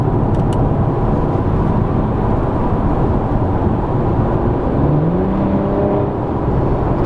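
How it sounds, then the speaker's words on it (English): Steady, smooth engine and exhaust drone from a 2021 Audi RS 5 Sportback 2.9T cruising in comfort mode, broadband road rumble continuous throughout with no sharp revving. "Definitely sounds like the exhaust is a little quieter."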